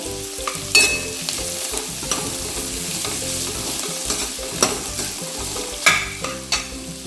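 Potatoes and other vegetables being sautéed in a pan for sambar, a loud close sizzle with repeated spatula scrapes and knocks against the pan in an uneven rhythm.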